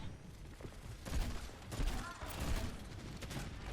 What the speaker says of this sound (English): You're throwing out bombs. You're spamming them out.